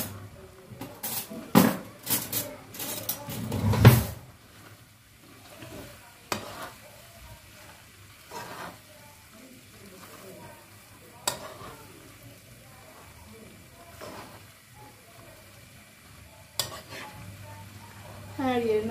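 Spatula stirring food frying in a pan with sauce, a run of loud scraping clatters at first, then softer intermittent stirs and knocks over a steady low sizzle, with brief talk.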